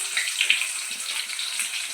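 Sliced onions hitting hot oil in a pan with tempering spices, a steady hissing sizzle that swells briefly and stays close and continuous, with no talking.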